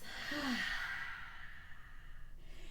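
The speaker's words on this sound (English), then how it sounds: "Let an audible breath out of the mouth." A single audible breath is let out through the mouth during a yoga flow, a soft breathy sigh that rises and fades over a couple of seconds, close and alone.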